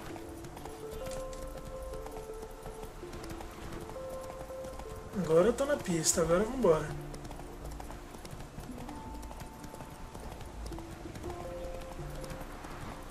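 Horse hooves clip-clop in The Witcher 3 video game, a steady galloping rhythm that swells to a louder burst midway, with someone talking over it and game music in the background.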